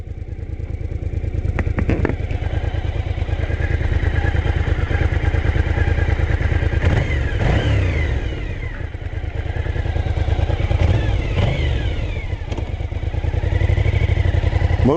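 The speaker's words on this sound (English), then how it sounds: "Motorcycle's all warmed up, ready to go." A motorcycle engine runs steadily as it warms up before street and freeway riding, a loud close rumble with a fast even pulse that rises and falls slightly, with occasional clattering knocks over it and no talking.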